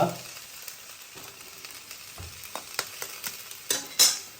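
An egg cracked into a hot pan sizzles steadily, with scattered clinks and scrapes of a utensil as it is stirred, building to a few louder knocks near the end.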